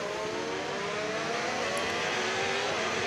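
A race car in a racing video game is driven to warm its tyres before heading to the starting grid, its engine a steady, continuous drone at a constant pitch with no talking.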